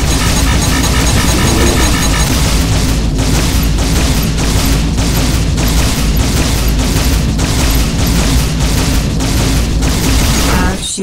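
Dense, loud space-combat racket in Rebel Galaxy Outlaw: repeated missile explosions and booming bursts pound in a fast regular rhythm over a constant roar, with no pause for the whole stretch.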